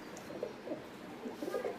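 Pigeons in a loft give faint, soft cooing in a few short, low, throaty bursts against quiet background noise.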